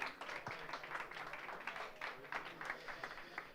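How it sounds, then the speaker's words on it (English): An audience at a conference in Bangkok claps for a speaker, a steady patter of moderate applause from a modest crowd, fairly distant and faint throughout. "Let's give him a round of applause"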